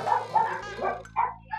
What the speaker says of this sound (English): I can't cut out barking, is what I meant.